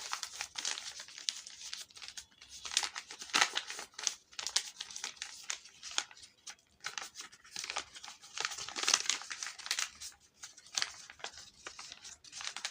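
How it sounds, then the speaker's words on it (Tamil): Paper crinkles and rustles as a large marked sheet is folded again and again into a small boat, with close, dry crackling bursts and tearing-like swishes that come and go irregularly, with no voice. "நாம் அதை மார்க்கெலாம் பண்ணிவிட்டு இப்படி மடித்து இப்படி மடித்து இப்படி மடித்து"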